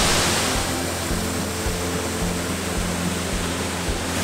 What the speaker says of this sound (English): this is the last waterfall today. Sendangila.